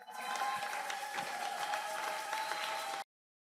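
Sustained applause and cheering from a congregation acclaiming Jesus at a prayer night, a dense, steady wash of clapping for three seconds that cuts off abruptly.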